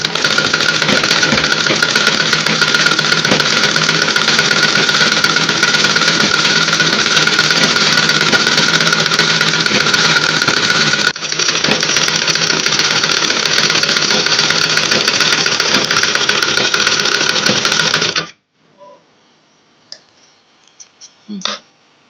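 A sewing machine runs steadily for about eighteen seconds as it stitches a fabric hair scrunchie, giving a continuous close mechanical whir with fast clicking, then stops abruptly and leaves near silence.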